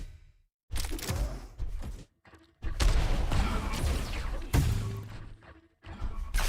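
Rocket launcher blasts and thudding explosions in a Quake-style duel video game match, several bursts in quick succession with short gaps of quiet between them.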